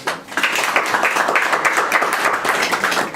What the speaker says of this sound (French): Merci d'acclamer.